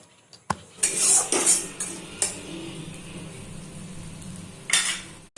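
Spice paste stirred and fried in a pan for a Bengali prawn malai curry, with a run of clinking metal spoon-on-pan scrapes and knocks over a low steady frying hiss, with louder clatters near the start and end.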